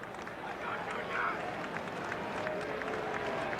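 Crowd noise at a Mariners at Red Sox baseball game after a walk, a broad steady roar of fans with scattered clapping, sustained and fairly even throughout.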